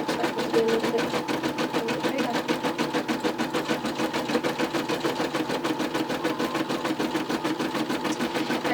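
A Brother M320e embroidery machine stitches a small zigzag, producing a steady fast mechanical chatter with an even repeating rhythm throughout, close and moderately loud, while a person talks over it.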